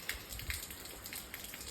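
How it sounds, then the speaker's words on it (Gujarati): Rain falls softly in a village, a quiet and steady patter with scattered drops tapping on a surface nearby. "આપણા ગામમાં મંદિરે જવું પણ વરસાદ ચાલુ થઈ ગયો"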